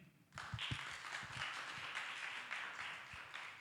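A church congregation stands and applauds their pastor, a dense wash of many hands clapping that starts abruptly after a brief quiet moment and then carries on steadily at a modest, somewhat distant level.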